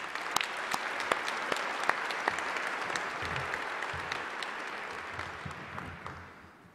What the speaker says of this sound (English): I'd like for everybody to give all of our sponsors another round of applause